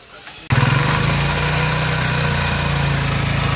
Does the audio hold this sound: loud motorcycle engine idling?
yes